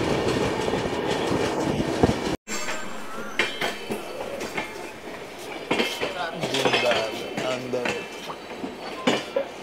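A passenger train on the Howrah route pulls into Deen Dayal Upadhyay junction, with ongoing rattling carriage clatter, clicking, and clinking metallic knocks close by, plus brief crowd voices. A short gap of near silence cuts in early.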